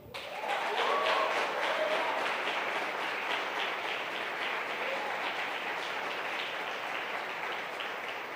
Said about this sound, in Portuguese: Agora merece aplaudir.